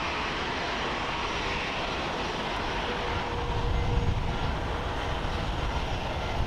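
A five-year-old Boeing 737-800 airliner at Haneda Airport gives a steady broadband jet roar that holds throughout and swells a little louder midway, with no voices.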